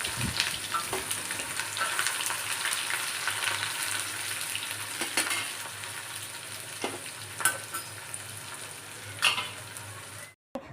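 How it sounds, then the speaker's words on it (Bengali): Dried red chillies, black cumin seeds and onion sizzle in hot oil in a kadai, a dense continuous crackling hiss with scattered sharper pops, close and fairly quiet, cutting off abruptly at the end. "কড়াই তেল গরম হয়ে গেছে এবারে আমি এর মধ্যে দিয়ে দেবো শুকনো লঙ্কা কালো জিরে আর পেঁয়াজ"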